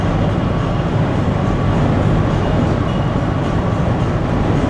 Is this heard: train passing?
yes